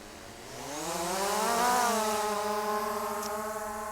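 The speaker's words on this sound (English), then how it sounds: "Alright, so the drone lifts off." A Skydio 2 drone takes off with a rising, whining buzz of its propellers that climbs in pitch, peaks and then settles into a steady close hover drone.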